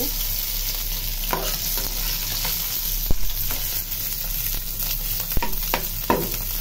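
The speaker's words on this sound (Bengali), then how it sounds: "পাটকিনি মাছটা সাইজ একটু ছোট, তো এই কারণে এইভাবে ফ্রাই করতেছি" Small patkini fish fry in hot oil with a loud, dense crackling sizzle, close by, while a spatula scrapes and flips them, producing a few sharp clacks against the pan.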